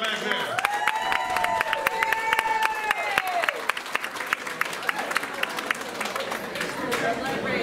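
An audience at a live concert applauds and cheers, with crisp hand claps throughout and a sustained voice or tone over the crowd, while people talk nearby.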